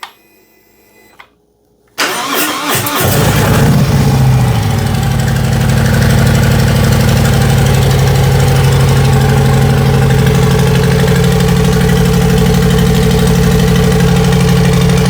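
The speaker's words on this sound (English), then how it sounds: "Now we can fire her up, make sure she works." A 2018 Harley-Davidson Softail fired up after a battery change: a brief click and crank, then the engine catches and settles into a loud, steady close idle with a deep throbbing rumble.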